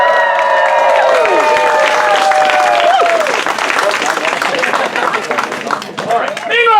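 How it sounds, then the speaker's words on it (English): Thunderous audience applause at a comedic Macbeth stage performance, loud and steady throughout, with sustained musical tones and shouting voices over the clapping in the first half. "Meanwhile, the dead people get up to thunderous applause"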